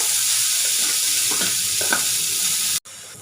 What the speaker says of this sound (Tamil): எண்ணெய் நல்லா காஞ்சதும் ஒரு பெரிய சைஸ் வெங்காயம் கட் பண்ணி கொடுத்துங்க